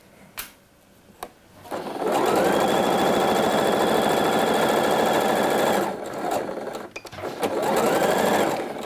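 A sewing machine runs forward along a coat seam joining the pocket lining to the bodice, with a few clicks first, then a long loud steady whir, a short lull, and a second run starting.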